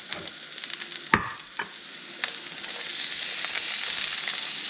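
Onions and carrots sauté in a pan with a steady, close sizzle. A few sharp knocks and scrapes come early, and then a smooth, even hiss continues alone.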